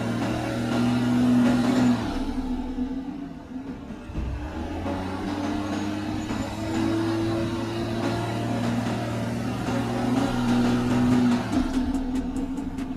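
A BMW X5 SUV sits stuck on a slippery off-road test course, its engine droning at steady high revs with sustained tonal whine as the wheels spin without grip, loud and continuous with slight pitch shifts.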